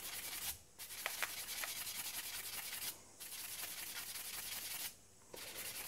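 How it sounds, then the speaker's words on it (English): A Honda CRM250 front caliper piston is sanded by hand in three long back-and-forth rubbing passes, a close, dry scratching broken by short pauses. "there really is a limit to how much I can sand away at that"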